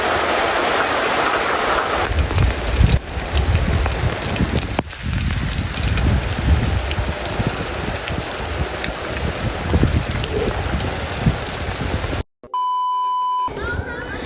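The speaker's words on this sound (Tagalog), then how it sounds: "Malakas ang ulan! Malakas ang ulan!" Heavy rain pouring steadily at a cattle watering area on a farm in the afternoon, a loud dense hiss close by that runs without a break, then cuts off abruptly near the end before a short electronic tone.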